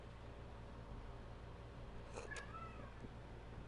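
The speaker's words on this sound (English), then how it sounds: "She's been a noisy kitty today." A cat meows once or twice faintly against a steady low background hum, short rising cries with no talking.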